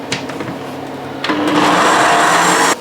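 A kitchen blender purees cauliflower into a puree or cauliflower rice: a lower whir, then a loud, steady high motor roar for about a second and a half that cuts off abruptly.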